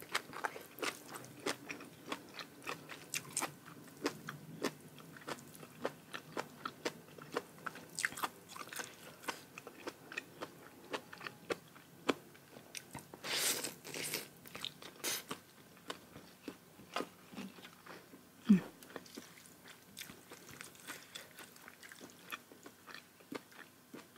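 Crisp vegetables and spicy beef omasu salad with bitter gourd and cha-om are chewed close to the mic, giving crunchy, irregular bites and wet mastication that go on throughout with no talk.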